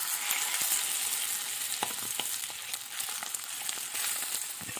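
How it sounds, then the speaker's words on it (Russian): A steady, loud sizzle of chicken drumsticks frying in hot oil in a pan, with crackling pops scattered throughout and no voices. "А тем временем, пока обжаривается голень"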